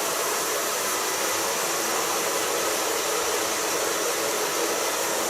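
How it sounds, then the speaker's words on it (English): A hair dryer blows steadily on hair, a loud, continuous breathy whoosh with no breaks and no voices. "I'm going to dry the hair a bit"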